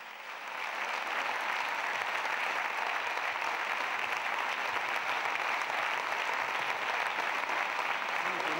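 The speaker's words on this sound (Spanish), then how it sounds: "Venga, un fuerte aplauso para estos artistas." Strong, sustained applause from a flamenco festival audience at an evening concert in Vallecas, a dense steady wash of many hands clapping that swells in within the first second and holds evenly to the end.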